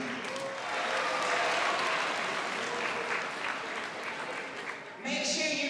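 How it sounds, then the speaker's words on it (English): An audience at an education awards event breaks into sustained, loud applause for a lifetime achievement honoree, with steady clapping and a brief dip before it swells again near the end. "Round of applause for Jackie Joyner-Kersee."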